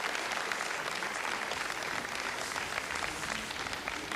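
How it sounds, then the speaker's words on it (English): Applause fills a rocket launch control room after an Ariane 42L satellite separation, a steady dense clapping from many people throughout, fairly distant and even in level. "And you hear the applause, everybody shaking hands, everybody happy."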